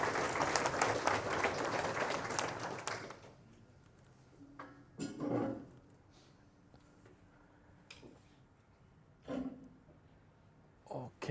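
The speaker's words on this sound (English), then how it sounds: "I'd like to give our speaker of today a warm welcome applause" A small audience at a security talk claps in welcome for a speaker, a short burst of applause that fades after a few seconds, followed by quiet room sounds with a few scattered knocks and taps.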